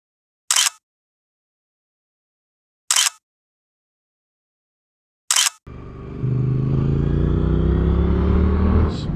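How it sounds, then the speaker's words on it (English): A 2021 Triumph Bonneville Street Twin motorcycle rides on a slightly damp road, a loud steady engine drone with wind rush that starts abruptly after three short sharp bursts of noise. "So the bike itself feels really good on the road."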